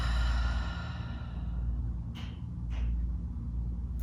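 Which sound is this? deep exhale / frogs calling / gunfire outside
deep exhale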